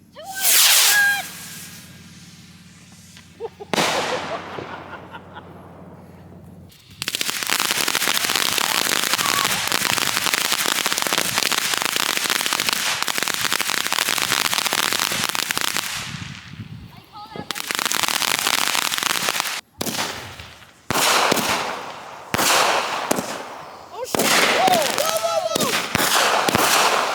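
Fireworks and firecrackers going off outdoors, mixed in with restoration work on a Minneapolis Moline 335 tractor: sharp single bangs, then long dense stretches of rapid crackling bursts broken by short pauses, with people talking between the volleys.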